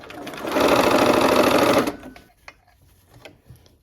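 A sewing machine stitching the final seams of a triangular quilt block, running in one fast steady burst for over a second, then stopping, followed by faint clicks and handling.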